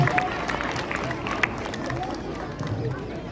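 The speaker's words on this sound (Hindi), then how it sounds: "बच्चों जोरदार तालियों से सरकार स्वागत कीजिए।" Dense crowd applause from students and staff welcoming a speaker onto a school reunion stage, a steady loud clapping wash with babble mixed in throughout.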